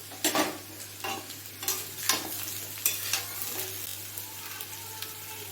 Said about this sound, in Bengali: মশলাটাকে আমি জল দিয়ে ভালো করে গুলিয়ে নিচ্ছি গুলিয়ে এর মধ্যে ঢেলে দেবো